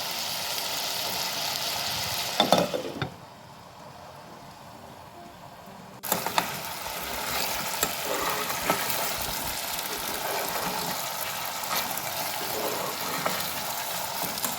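Raw plantain cooks in a covered pan with a steady, soft sizzle. The sound goes muffled for a few seconds around a clatter of the lid, then returns just as before.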